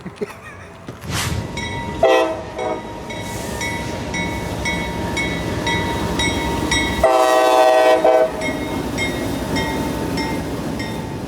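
Nightly UPS and container freight train out of Jacksonville bound for Tampa passing close by, with loud horn blasts, a steady rumble and clickety-clack of wagons rolling past continuously.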